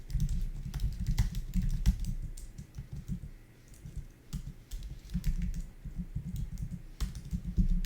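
Code being typed on a computer keyboard: steady, close clicking keystrokes in irregular runs with short pauses, fairly loud and alone without talk.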